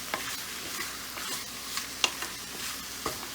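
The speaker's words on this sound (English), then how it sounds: "I'm gonna just give it a quick stir. Let all the ingredients come together." Ingredients for a spicy Indian lamb curry are stirred in a pressure cooker pot, giving soft scraping and sizzling with a few light clinks of the spoon, close and fairly quiet with no talking.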